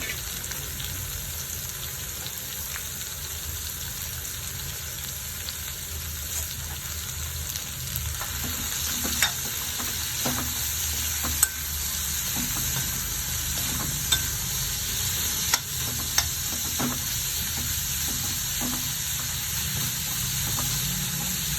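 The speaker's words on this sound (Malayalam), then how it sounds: "അതിന് ഒരു സ്പൂൺ എണ്ണ ഒഴിച്ചു കൊടുക്കാം സവാള ഇട്ട് കൊടുക്കാം" Sliced onions sauté in a spoonful of oil in a pan, giving a steady close sizzle and hiss with occasional faint stirring clicks throughout.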